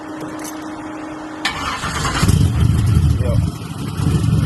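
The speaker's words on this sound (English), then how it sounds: "Crank it up, let it warm up some" A Chevy on 26-inch wheels cranks, fires up and settles into a loud, rumbling idle close by, while someone speaks briefly over the engine.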